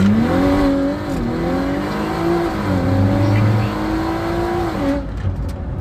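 A 750hp Audi SUV accelerates hard in a launch run, its engine note climbing through gears with a shift-like dip midway, loud and close, then cutting off abruptly near the end.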